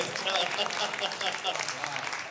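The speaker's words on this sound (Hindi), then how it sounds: "आप लोगों की तालियां थोड़ी कमज़ोर हैं" Audience applause at a Hindi-Urdu comedy poetry recital, a steady spread of many hands clapping at moderate volume for a couple of seconds, heard alone without talk.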